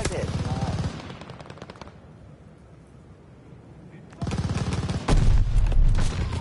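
Submachine gun fire in a first-person shooter game, loud rapid automatic bursts up close at the start and again in the last seconds, with a subdued lull between them.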